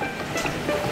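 Running water splashes steadily while toy kitchen dishes, a large bowl among them, are washed, a continuous noisy wash with no pauses.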